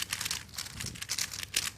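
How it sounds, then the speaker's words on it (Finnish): Loud rustling and crinkling in a TV studio, a quick run of papery crumpling bursts close to the microphone, irregular and continuous with no talk. "Rapina on ainakin kova."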